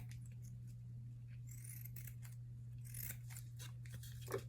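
Scissors trim small pieces of fabric for a micro bag keychain, giving quiet, close snips in an irregular series over a steady low hum.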